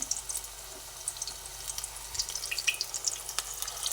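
Egg and onion pakora fritters frying in hot oil give a steady, fairly quiet crackling sizzle with scattered sharp pops throughout, no voices.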